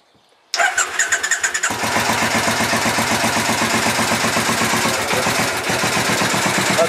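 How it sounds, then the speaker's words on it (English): A 2002 Triumph Bonneville America motorcycle engine cranks with a quick series of starter pulses, catches, and settles into a loud, steady, close idle, in neutral on a stand. "Fire the bike up, make sure it's in neutral,"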